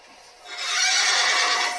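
A horse gives a loud, close neigh that builds from a quieter start into a sustained, shrill whinny lasting over a second, with no talking over it.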